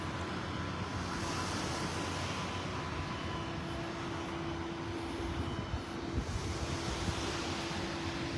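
Breezy wind on a beach in North Naples, Florida, a steady broad rush of gusts against the microphone with surf-like noise underneath, no talk.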